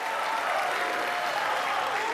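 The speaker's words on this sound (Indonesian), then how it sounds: "terima kasih tepuk tangannya." Steady applause from the audience at a 2014 Indonesian presidential debate, a brief, uniform roar of many hands clapping that stays fairly soft and holds level throughout.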